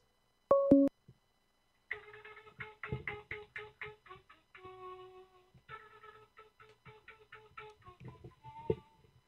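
An incoming phone call tone on a studio call-in line: a short electronic tone sounds once, then a rapid series of clipped beeps and chirps follows in an uneven rhythm, fairly quiet and clear.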